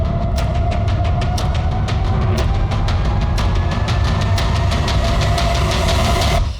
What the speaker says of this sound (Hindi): ये टेम्पो किसका है पक्या?